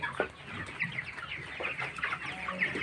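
A flock of 21-day-old broiler chickens clucks softly and continuously nearby, overlapping low calls with no voices.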